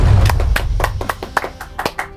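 A few people clap in scattered, uneven claps, close and fairly loud, during a Norwegian film-explosion show, with no talk over them.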